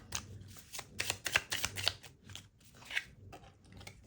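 Tarot cards shuffled and drawn from a deck during a relationship reading, a run of dry papery riffles and crisp flicks at close range, quiet and intermittent over about four seconds with no talk.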